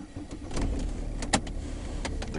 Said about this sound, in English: car starts and runs